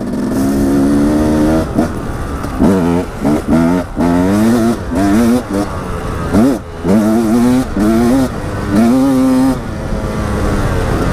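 A 2016 Husqvarna 300 TE two-stroke enduro motorcycle revs hard up close, its raspy engine note repeatedly climbing and dropping in quick bursts between short pauses, loud and on its own with no talking.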